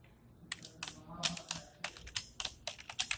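Code is typed on a computer keyboard in a quiet room, with irregular bursts of crisp, close key clicks and a few louder keystrokes spread over a few seconds. No voices are heard.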